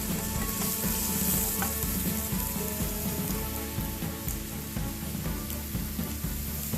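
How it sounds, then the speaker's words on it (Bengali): Sugar frying and caramelizing in hot oil alongside paneer in a kadai, a dense, steady sizzle with crackling hiss holding close and loud throughout, no voices over it. "ঠিক এই সময় একটু চিনি আমি তেলের মধ্যে দিয়ে দেবো"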